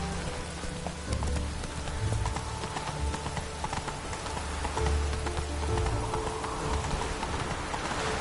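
Roach, the horse in The Witcher 3, trots with a rhythmic clip-clop of hooves, moderately close and steady, over a continuous rain-like wash of ambient game noise.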